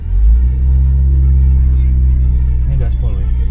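A Mitsubishi Xpander Cross engine under full throttle gives a loud, steady low drone heard close from inside the car. A voice is briefly present over the rumble.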